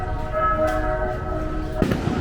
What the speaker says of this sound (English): Why the heck are they letting fireworks go off during the day?